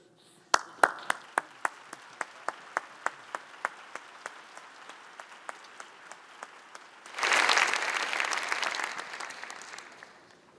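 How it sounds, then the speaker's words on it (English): At a university fall convocation ceremony, a few isolated hand claps tick at a steady pace before a full hall breaks into warm, sustained applause for a jazz quintet. "join me in giving a warm round of applause for the Brian Sand Quintet"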